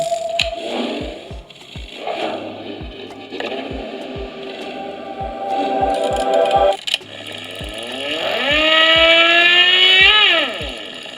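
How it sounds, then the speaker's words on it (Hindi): Vintage-mode sound from an Ola S1 electric scooter on OS 3, a close series of choppy, sputtering engine-like bursts that ends in a rising then falling whine, with faint regular clicks throughout. "ये है विंटेज मोड का साउंड"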